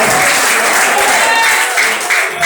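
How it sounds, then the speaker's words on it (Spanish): Loud, steady clapping from a church congregation praising during a sermon, dense and continuous throughout with voices mixed underneath. "dale fuerte esas palmas al Rey"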